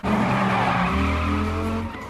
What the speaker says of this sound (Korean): 기가 막힌 드리프트로 주인공을 낚아채는 누님